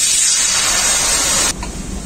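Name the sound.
water being poured into a wok on the stove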